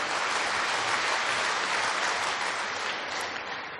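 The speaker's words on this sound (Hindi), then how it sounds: "हाँ बजाओ ताली।" Audience applause at a spiritual discourse gathering, sustained dense clapping from a large crowd throughout, loud and steady with no speech.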